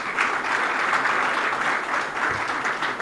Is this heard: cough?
no